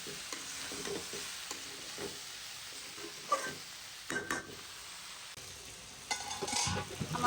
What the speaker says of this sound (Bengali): আমার ভাজি যে উটপুট আওয়াজ করছে, ভাজিটা প্রায় হয়ে গেছে।